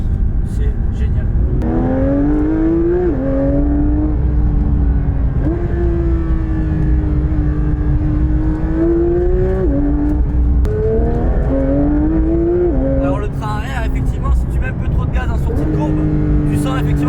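A Porsche 992 GT3 in sport mode pulls hard on the road, its engine climbing through rising revs with gear shifts, loud and steady from inside the cabin, with people talking over it.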